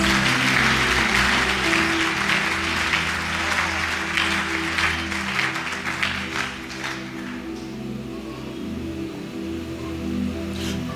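A church congregation breaks into sustained applause acclaiming the Lord at a prophetic revival gathering, dense clapping carrying over a steady musical drone from the instruments, fading somewhat toward the end before swelling again.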